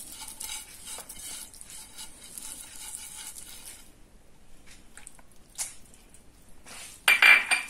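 Onion tipped into a frying pan over a mixture for Moroccan chicken and almond pastilla, heard as a soft continuous hiss with wet stirring and squishing, a few utensil knocks, and a louder scrape near the end.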